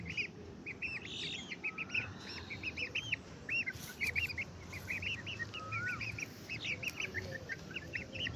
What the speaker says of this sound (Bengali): এই এগুলো হচ্ছে আঁচিল ফাইটার মুরগির বাচ্চা